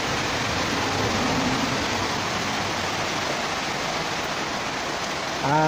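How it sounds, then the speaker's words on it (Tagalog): Heavy rain pours steadily outdoors behind a house, a loud, dense, unbroken hiss that fills the whole stretch, with a faint voice-like tone creeping in at the very end. "Yan, lakas ng ulan."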